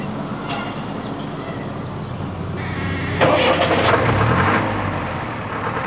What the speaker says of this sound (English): While the engine is revving, the mirror is fairly free from vibration.